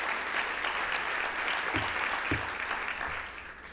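Audience at a State of the City event in a casino venue applauds the staff, a sustained, even wash of many hands clapping that tapers slightly toward the end, with a couple of low thumps mixed in.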